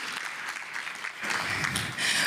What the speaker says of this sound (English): another round of applause for those who are here this morning